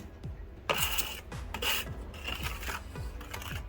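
A trowel scrapes and spreads mortar for natural stone on a basement walkout wall in a series of short, gritty rasping strokes. The strokes are quiet and close, with small knocks between them, and no one speaks.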